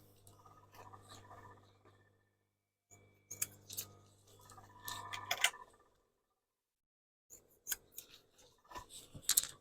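Scissors snip the corners off fur coat fabric in three bursts of quick, close crunching cuts separated by short silences, quiet overall with sharper clicks as the blades close.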